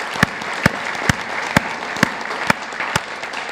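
An audience applauds at the Congress 2018 Big Thinking lecture series: evenly spaced sharp claps ring out over a low, noisy crowd bed, steady and fairly close.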